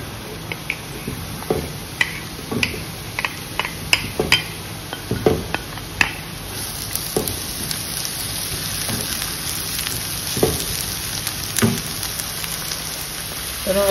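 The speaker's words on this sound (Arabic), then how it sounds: "نديرو شويه د الزيت، دابا هنا غادي نرميو البصيله" Onion frying in a little oil in a frying pan, a dense crackling sizzle with scattered sharp pops and utensil clicks, close and fairly loud, with no one talking.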